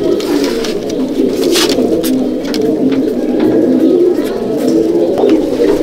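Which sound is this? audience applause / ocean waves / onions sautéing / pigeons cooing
pigeons cooing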